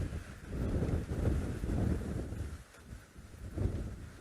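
Gusty wind buffets the microphone in rumbling surges that rise and fall over several seconds, with no voices.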